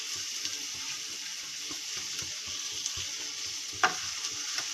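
Cumin seeds sizzle in hot oil, a steady close frying hiss with faint crackles and one brief clink near the end.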